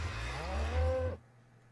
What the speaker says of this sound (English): cows can have moody sounds